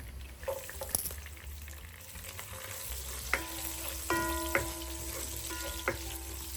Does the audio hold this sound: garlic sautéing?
yes